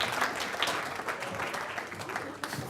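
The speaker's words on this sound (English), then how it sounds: "Please give her an extraordinary warm applause. A warm round of applause, rather." Audience applause greets a TV presenter and actress at a science-communication competition final in Ireland, a steady dense wash of clapping from a sizeable crowd lasting throughout without a break.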